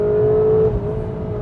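A Seat Leon ST Cupra 300 engine revs briefly up close and loud, holding a strong steady tone that drops sharply partway through.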